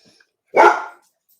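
A guard dog lets out one loud, close bark, a short sharp burst that stands alone in otherwise quiet surroundings.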